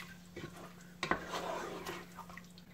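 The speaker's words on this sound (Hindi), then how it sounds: "अच्छे तरीके से मिक्स कर लें इसको।" A spoon scrapes and knocks inside a pot as chicken masala is mixed with about a cup of water. The taps are faint and scattered, with a couple of sharper clinks near the middle.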